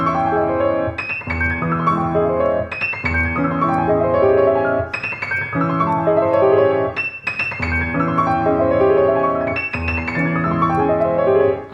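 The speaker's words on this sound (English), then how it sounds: "So here's a passage from Liszt's Sonetto 104 del Petrarca." Solo piano playing a chained, repeated passage from Liszt's Sonetto 104 del Petrarca, rich and resonant with sustained chords and rapid rolling figures, close and fairly loud with no talking.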